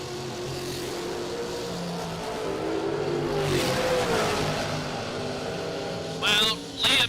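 Drag racing cars, including a roadster, launch hard off the starting line at a SuperBucks Showdown event, engines swelling into a loud, rising roar midway before fading, with brief sharp bursts near the end.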